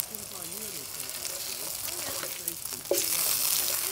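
Onions and burgers sizzle and fry in a chef's pan inside a Carthago motorhome, a steady close crackle with faint stirring and a brief louder hiss near the end, while someone talks over it.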